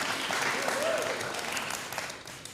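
Crowd applause at a political rally, a steady broad clapping wash that stays loud and continuous before easing slightly near the end, with faint voices mixed in.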